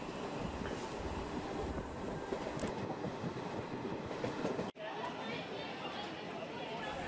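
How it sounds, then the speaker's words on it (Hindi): Passenger train running from Amritsar to Haridwar, a steady rumbling rail roar with rattling carriage noise and brief clatter throughout, close and continuous, with people chattering in the background. "अमृतसर से चल के बिल्कुल राइट टाइम पे इस ट्रेन ने मुझे हरिद्वार में उतार दिया था"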